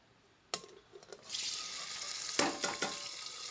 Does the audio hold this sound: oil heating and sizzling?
yes